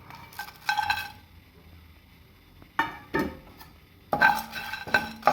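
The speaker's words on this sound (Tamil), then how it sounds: "சோம்பு பாருங்க செவந்து வருது. கொஞ்சம் படபடன்னு பொரியும் போது இதை நிறுத்திக்கலாம்." Whole fennel seeds and star anise dry roasting over low flame in a hot kadai, with a few short bursts of scraping, rattling stirs and light crackle separated by quiet pauses.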